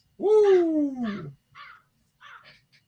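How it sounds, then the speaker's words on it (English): A nearby bird, probably a crow, gives one long harsh caw followed by several shorter, fainter call fragments, sounding loud and close in an otherwise quiet outdoor spot. "There's a bird."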